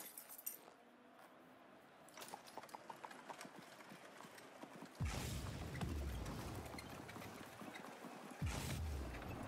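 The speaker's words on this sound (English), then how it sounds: "Now, it's basically just a horse trotting along. You can kind of hear it sort of pushing a wagon" Game sound of a horse trotting along while pulling a wagon, used as the Horsepower engine in Rocket League: steady clip-clop hoofbeats with faint clinking and creaks, growing louder and denser partway through.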